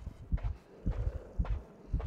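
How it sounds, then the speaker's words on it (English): Heartbeat in the dark puzzle-platformer Inside: deep, muffled double thumps repeating at a steady pulse of roughly one beat every half second, close and heavy over a low hum, with no talking. "Oh, the heartbeat is not helping."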